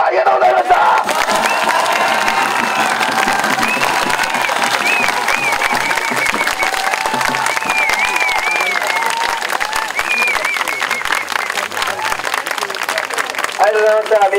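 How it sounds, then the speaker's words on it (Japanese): A large outdoor crowd at a protest in front of the Japanese parliament cheers and applauds loudly and steadily, with shouts and voices woven through the sustained clapping for the whole stretch. "もう一度大きな拍手よろしくお願いします。"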